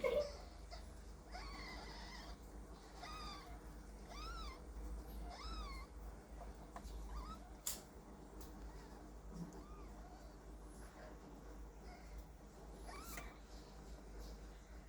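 A small kitten meows repeatedly, about half a dozen thin, rising-and-falling cries spaced a second or two apart, fairly close against a quiet indoor background.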